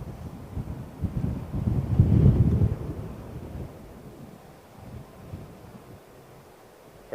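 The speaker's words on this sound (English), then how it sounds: "It's quite blustery, gotta say." Gusty wind buffets a microphone at an airport viewpoint about 100 feet up, a low rumbling roar that swells to a strong gust midway and then eases to a softer, steady blow.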